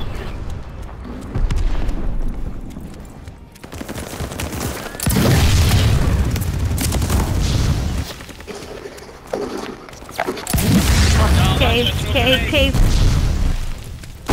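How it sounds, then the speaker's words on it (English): Friendly glide bomber explosions in Call of Duty: Vanguard multiplayer: heavy booming blasts come in several loud waves, with scattered gunfire between them, while players talk over the action. "Friendly glide bomber incoming."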